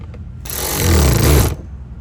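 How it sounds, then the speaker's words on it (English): A power driver spins a T30 Torx bolt tight on the front bumper cover of a 2012-2018 Ford Focus hatchback, giving one close, loud whirring burst of about a second before quiet returns. "Put our T30 star bit back in and tighten it and get ready to tighten it up."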